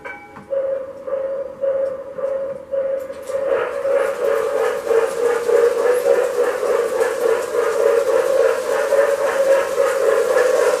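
A postwar toy train whistle gives a short toot, then sounds a long continuous breathy blast with a steady hiss, close and fairly loud, with no voices.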